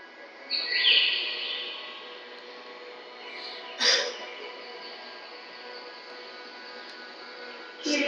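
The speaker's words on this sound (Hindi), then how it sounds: "चिड़ियों की चहचहाने की आवाज," Birds chirp outdoors during an International Yoga Day session, with a few clear calls rising over quiet background hiss, the loudest near the start and others spaced out later.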